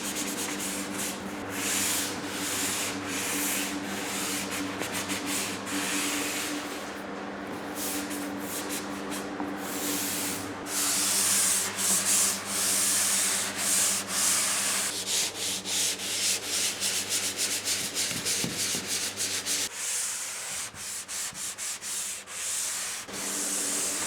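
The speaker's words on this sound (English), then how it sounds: "you don't have to be a good drywall mutter, you just gotta be a good sander." Hand sanding of drywall joint compound: steady, continuous scratchy rubbing strokes that carry on throughout, close up, with a low background hum and no talking.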